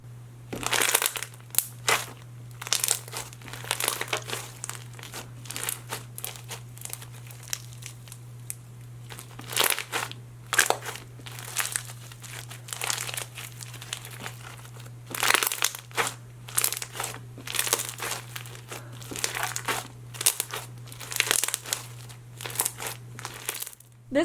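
Crunchy slime packed with foam and marshmallow beads is squished and stretched nonstop, giving dense crackling and popping crunches over a steady low hum.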